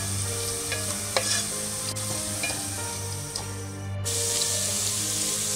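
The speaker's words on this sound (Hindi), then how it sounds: "चिकन को मसाले के अंदर थोड़ा सा भूनेंगे" Chicken mince sizzles steadily as it fries in masala for keema karela, with a spoon scraping and clicking against the pan now and then. Nobody speaks.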